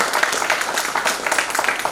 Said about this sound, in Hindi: एक तालियां बनती है।